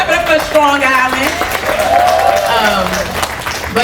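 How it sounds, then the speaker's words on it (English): Audience applause at a New York State Black Legislative Task Force listening tour stop on Long Island, a steady wash of clapping running under a speaker's amplified voice and crowd noise. "we clap it up for Strong Island"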